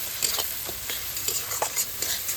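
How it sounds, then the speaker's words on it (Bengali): Food sautés in a sizzling pan with a splash of water, a loud constant hiss punctuated by repeated quick stirring scrapes at an even rhythm. "এবার এটাকে ভালো করে নাড়তে হবে। ভালো করে কষাতে হবে"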